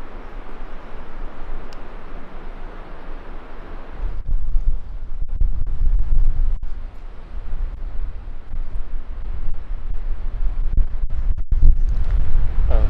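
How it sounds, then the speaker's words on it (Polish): Strong wind sweeps outdoors near fallen trees while someone searches for a campsite. A steady breezy hiss builds into heavy, rumbling gusts that batter the microphone, loud and uneven, with no talking. "Niepokoi mnie ten wiatr."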